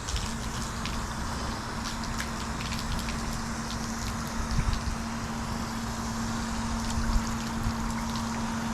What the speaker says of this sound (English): So what I'm going to do now is I'm going to sheet rinse this.